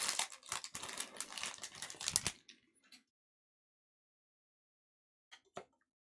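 Wrapper of a Brilliant Stars Pokémon card pack crinkling and tearing as it is pulled open, a dense burst of close rustling for about two seconds, then quiet with a few faint crinkles later.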